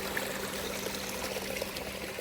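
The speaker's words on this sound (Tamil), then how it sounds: "கிணத்துல இருந்து தண்ணி வந்து கொண்டு இருக்குது" Continuous flowing water from a well in Jaffna, Sri Lanka, a steady trickling stream running without pause, moderately close and fairly quiet.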